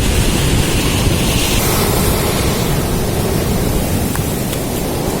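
Rough sea waves surge continuously onto Nandgaon beach in Konkan, a loud, dense wash of surf with wind buffeting the microphone and no voices.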